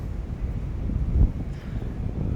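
Steady low rumbling wind buffeting the microphone, with a brief stronger gust near the middle; no voices.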